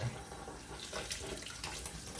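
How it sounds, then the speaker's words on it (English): Cold tap water pouring into a kitchen sink over hot cooked noodles, a faint, steady splashing rush lasting a couple of seconds with no voices. "So I move it right to the sink. Careful, it's very hot. And then turn on cold water."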